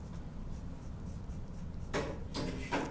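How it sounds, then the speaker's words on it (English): Dark colored pencil shading on paper in one direction, a soft continuous scratchy rubbing with a few brighter strokes toward the end, close and fairly quiet. "let's go ahead and go with our dark colored pencil"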